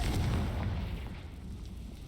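A Confringo fire-blast spell explosion in Hogwarts Legacy. One deep, booming blast hits at the start and rumbles away over about two seconds, fading to a low murmur.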